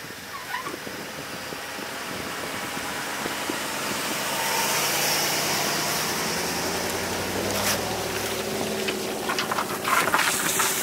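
Vehicle engine strains to pull a boat on its trailer up a gravel-covered lake ramp, a steady mid-level rumble that swells and rises in pitch as it works, with outdoor noise and gravel crunch toward the end.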